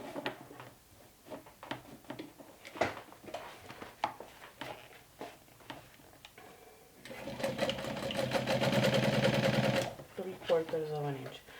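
A sewing machine top stitches a backpack, first as scattered ticks and clicks of handling and adjusting, then a steady fast stitching run of about three seconds, ending with short clacks and a voice in the background.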